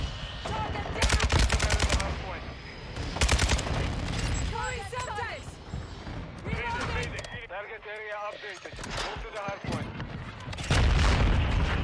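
Automatic gunfire from an RPK in Modern Warfare 2 rattles out in dense, loud bursts with booming impacts and crackling effects, while a player talks over the action in between.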